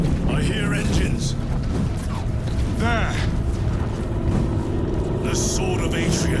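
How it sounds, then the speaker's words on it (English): Deep engines rumble in Space Marine 2 beneath a busy battle soundscape with mechanical clanks and whooshes, while a voice speaks briefly. "I hear engines."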